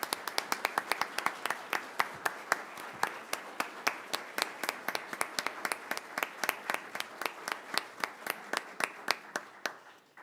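A small council meeting audience claps briskly, with distinct individual hand claps in a quick, uneven rhythm that carry on steadily, fairly close and moderately loud.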